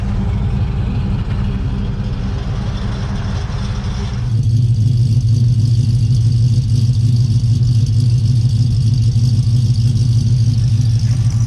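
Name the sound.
car engine revving, before and after a muffler install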